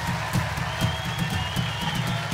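Studio audience on a TV talk show applauds, a dense, steady wash of clapping with a few brighter claps standing out, fairly loud and sustained throughout.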